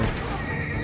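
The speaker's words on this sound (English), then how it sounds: "Okay, what horse am I gonna steal?" A horse whinnies in the Red Dead Online video game, a single drawn-out neigh that fills most of the moment at steady loudness, with faint hoof or game ambience underneath and no talking.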